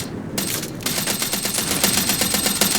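Machine gun fire from Men of War: Red Tide, a World War II strategy game: rapid, steady bursts of automatic gunfire rattling continuously after a brief opening pause, loud and sustained, with no talk over it.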